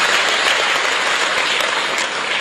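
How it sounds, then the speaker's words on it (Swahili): Loud, dense applause from a large audience fills a conference hall at a SADC ministers' meeting, sustained and steady throughout with no speech over it. "tumpe makofi mengi sana sana"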